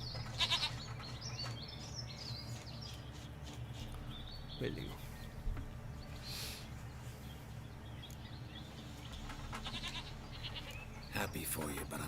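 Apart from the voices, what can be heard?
goat bleating in video game The Witcher 3: Wild Hunt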